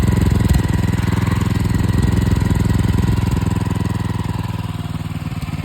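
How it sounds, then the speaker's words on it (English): Freshly rebuilt motorcycle engine idling during break-in, a loud, steady, rapid knocking putter held at a constant low idle for several seconds. "We want it at a good idle."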